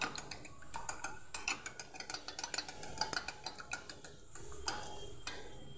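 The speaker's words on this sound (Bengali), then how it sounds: "2টো ডিমকে পরিমাণ লবণ দিয়ে ভালোভাবে ফেটিয়ে নেব" Eggs beaten with salt by hand, a utensil clicking rapidly and rhythmically against the bowl in quick close taps with brief pauses, alone without talk.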